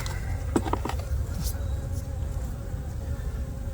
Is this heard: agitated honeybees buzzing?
yes